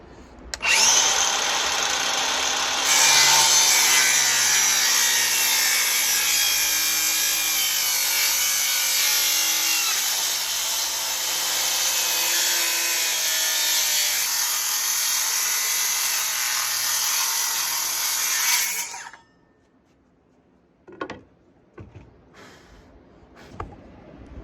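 A power saw cuts freehand along a marked line in decking wood, a loud, steady whining cut that runs for about nineteen seconds and then stops, followed by a few faint knocks and handling sounds.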